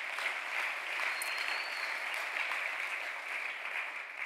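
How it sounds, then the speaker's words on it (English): A church congregation at a Wednesday evening service claps together, a soft, even wash of applause from a room of people lasting a few seconds, with no talking on top. "You all may give yourself a hand of applause for that."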